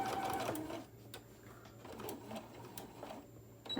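Sewing machine running in short bursts while stitching a small tote bag, starting and stopping with quieter gaps and light clicks between runs, fairly close.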